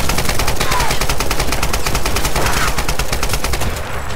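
Rapid automatic gunfire rattles without a break in the Tomb Raider 2013 video game, loud and dense bursts running through the whole stretch before easing slightly at the end.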